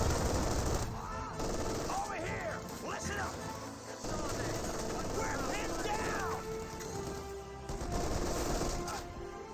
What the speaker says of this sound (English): the sniper's getting hit pretty hard from the 50 cal